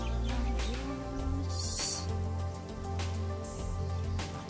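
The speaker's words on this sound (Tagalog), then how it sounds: "Ayan ang mga ibon. Mga ibon. Na lumilipad." Birds call in Al Barsha Park, Dubai, with faint chirps over a steady low hum of background traffic and ambient noise.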